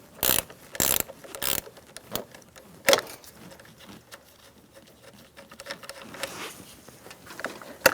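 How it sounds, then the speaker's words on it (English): An 8mm ratchet wrench works loose the negative battery terminal on a 2007-2017 Ford Expedition, giving a few sharp close clicks early on, then quieter faint ratcheting and light tapping with no talk. "Using an 8mm wrench, we're going to disconnect our negative battery terminal."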